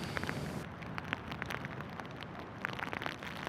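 Rain patters onto a makeshift shelter roofed with an airbag on a tropical South Pacific island in the Cook Islands, a close, steady hiss dotted with sharp drop impacts.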